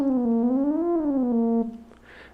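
A single buzzy note from a Korg Volca Modular synthesizer glides up and back down in pitch, holds briefly, then cuts off into a faint tail.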